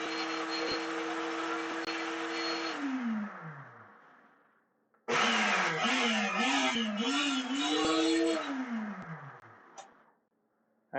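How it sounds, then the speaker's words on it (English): Kitchen blender whirring through a cauliflower, garlic and shrimp mixture, running loud and steady, winding down, then starting again with a wavering pulsing motor pitch before spinning to a stop. "put it on the blender. We just want to blend it till it's smooth."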